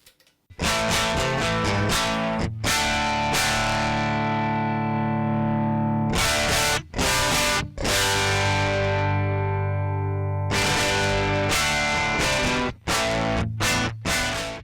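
Heavily distorted electric guitar chords through an Amplitube TONEX amp model, played loud and saturated, with sustained ringing tones between short chugging stabs.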